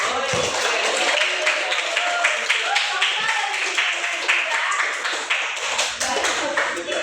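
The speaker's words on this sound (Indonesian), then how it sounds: "Berikan tepuk tangan kepada Sabera." Students in a classroom clap for Sabera, a lively patter of a smallish group's hands, close and uneven, with a voice briefly heard among the claps.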